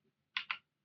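Two quick, close keystrokes on a computer keyboard while a command is entered in a Windows terminal, sharp and fairly soft against a quiet room.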